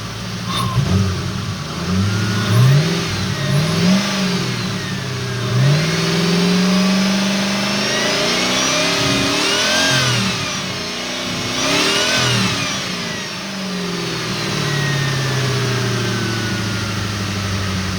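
A 1996 Ford Mustang GT's V8 engine rumbles at a steady idle and rises in several strong revs, loud and close throughout.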